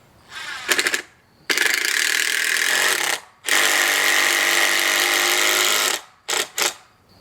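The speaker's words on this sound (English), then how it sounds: "screwed 2 of those 3-inch deck screws into the base of that from the top to the bottom" Two 3-inch deck screws are driven into the base of a wooden birdhouse with a power drill: short whirring bursts, then two long loud steady runs, ending in quick stop-start pulses as the screws tighten.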